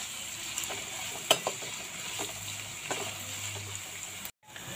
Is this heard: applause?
no